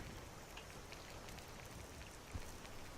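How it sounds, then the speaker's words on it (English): Steady rain from a thunderous rainstorm in the Skyrim video game hisses evenly and quietly throughout, a dense continuous patter with one brief low thump, no voices. "we're already dealing with a thunderous rainstorm"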